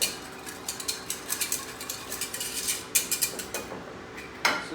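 Spoon scraping and clinking against a pan while stirring Thanksgiving gravy, a quick, steady series of close metallic taps and scrapes with no talking.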